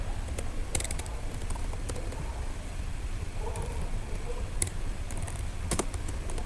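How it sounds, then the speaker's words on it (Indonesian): Keys on a computer keyboard are typed in short, sparse bursts while entering Cisco router access-list commands, faint clicks sitting over a steady low background hum. "Kita ketikkan akses."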